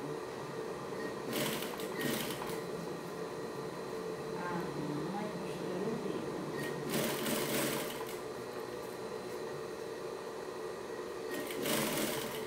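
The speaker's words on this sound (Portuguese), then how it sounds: "costurando aqui o vivo" A sewing machine stitches piping onto a fabric pouch in a steady, low-level run, with several short, louder bursts of rapid stitching.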